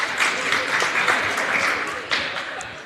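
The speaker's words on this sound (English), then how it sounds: "chanting MVP." Crowd at a high school varsity basketball game chanting MVP during a tournament awards moment, a steady roar of many voices with rhythmic swells mixed with clapping, loud and close throughout.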